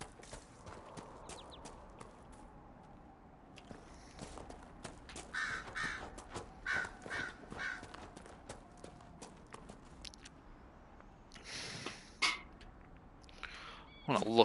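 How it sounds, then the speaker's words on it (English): Crows cawing in the video game Dragon Age: Inquisition, several harsh caws scattered through a quiet ambient backdrop, with soft footstep-like clopping beneath. "Every time I hear those crows, they always remind me of Resident Evil."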